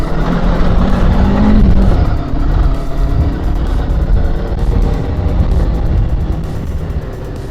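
A Macbor XR5 510 motorcycle ridden off-road gives a steady, loud engine rumble and drone that runs unbroken from start to finish, with no talking over it.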